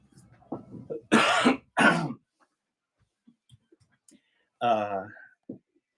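Two loud, sharp coughs close to the microphone, followed after a pause by a throat-clearing grunt, with faint breathing between.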